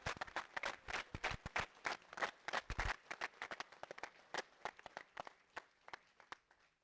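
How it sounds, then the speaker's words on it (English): An audience at a team appreciation dinner claps in crisp, distinct hand claps that start dense and lively, then thin out and taper off as the applause winds down. "so let's give them a round of applause"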